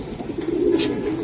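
Giribaz pigeons coo softly up close, a brief low rolling murmur lasting about a second.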